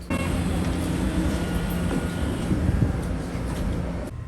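A Nankō Port Town Line New Tram train pulls out of Suminoe-kōen station on an elevated track in Osaka, with a steady low rumble and rolling hum from inside the car, fairly even throughout.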